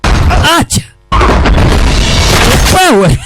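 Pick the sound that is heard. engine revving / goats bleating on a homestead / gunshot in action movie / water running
gunshot in action movie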